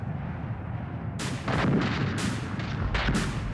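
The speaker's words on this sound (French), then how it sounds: "les fantassins découvrent la puissance de feu allemande, les canons de campagne et les mitrailleuses" Heavy field artillery and machine gun fire bursts out in irregular volleys of booming blasts over a constant low rumble, loud and close, with no voices.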